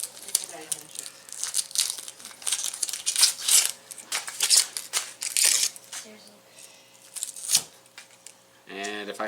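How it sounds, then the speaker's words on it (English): Dry papery onion skin being peeled off by hand, crinkly crackling rustles in irregular bursts close by, with a voice talking over much of it. "you're just peeling off the extra peel."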